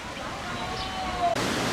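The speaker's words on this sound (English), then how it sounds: "Look at the waterfall." A waterfall at the Mombasa Lagoon in San Diego Zoo Safari Park pours with a steady, moderate rushing wash, heard briefly with some faint background sounds.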